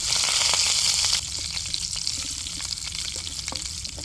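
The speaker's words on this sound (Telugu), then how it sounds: "చూడండి మంచి చిట్లుతున్నాయి కదా చాలు ఇంకెలా చిట్లిన తర్వాత ఎండుమిరగాయలు వెల్లుల్లిపాయలు" Tempering for a home-cooked Telugu dish: mustard seeds, cumin, dried red chillies, garlic and curry leaves crackle and splutter in hot oil. A loud burst of sizzling drops suddenly, leaving close, irregular popping and frying without talk.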